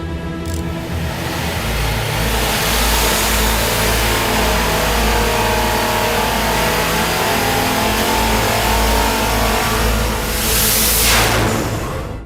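A boosted 427 engine on a dyno power run makes over 1,000 horsepower at 10 pounds of boost and revs loudly and steadily for about twelve seconds, with a rising, screaming pull near the end and no talking.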